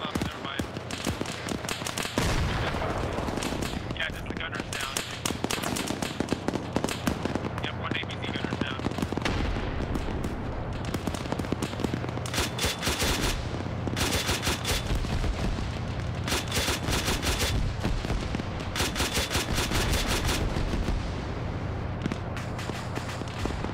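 A .50 cal machine gun and tank guns fire in a video game battle: loud, nearly continuous bursts of gunfire and booms fill the whole stretch, with voices talking over the din.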